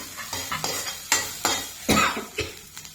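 Nellikayi (gooseberry) chutney stirred in a pan, a series of close scraping strokes of a spoon against the pan bottom with light sizzling and clinks, uneven rhythm, no one speaking.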